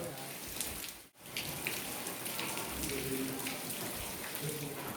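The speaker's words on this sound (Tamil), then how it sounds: "கொஞ்ச நேரத்துலேயே செமையான மழை பெஞ்சது" Heavy rain pours steadily at a hill-station room in Kodaikanal, a dense continuous hiss with one brief dropout, loud and close throughout.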